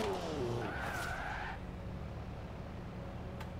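Rear-wheel-drive B-class car in Forza Horizon 4, its engine revving up close while tires squeal in a rising screech for about a second, then settling into a steady lower drone without any talking.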